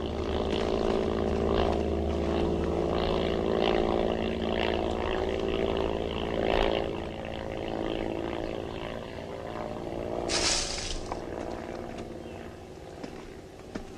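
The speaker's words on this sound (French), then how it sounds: "Si je vous disais que la présence de cet avion ne me dit rien qui vaille." A propeller aircraft drones overhead as a continuous low engine rumble in a WWII war film scene, fairly loud throughout, with a brief hissing burst partway through.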